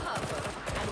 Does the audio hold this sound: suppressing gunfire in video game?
yes